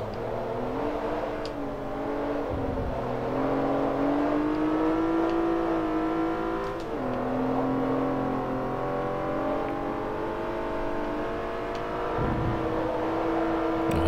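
A race car engine in Forza Motorsport 3 on a fast lap of the Iberian circuit, holding a high whining drone that rises and dips through gear changes and corners, steady and continuous, with no voices.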